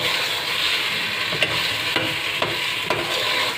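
Apple gourd (tinday) pieces frying in a pan, a steady close sizzle with periodic scraping strokes of a stirring spoon about every half second.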